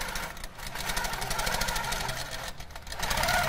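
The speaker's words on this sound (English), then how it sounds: "I'm just going to start stitching." An HQ longarm quilting machine stitches a quilt following a pantograph, giving a steady rapid mechanical hum with fast needle pulsing, continuous and close with no speech.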